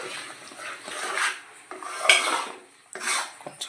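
A spoon stirs and scrapes Mysore pak mixture around a metal pan, producing several close, uneven bursts of rasping scrape and clatter separated by brief pauses, with no voices.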